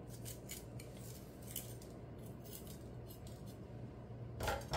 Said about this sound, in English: So I'm gonna be removing all the seeds from the serrano pepper.